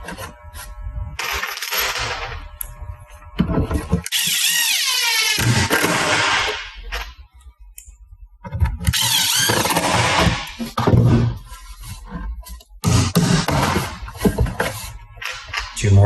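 A power drill drives two-inch screws into the wooden frame of a kids' dual-sink mud kitchen: four loud, close whirring runs of a few seconds each, with brief quiet pauses between them.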